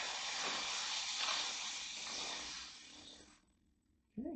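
Chain lubricant is sprayed onto a motorcycle chain during an oil change and chain adjustment: a close, steady aerosol hiss lasting about three seconds, then cutting off into quiet before a brief knock at the end.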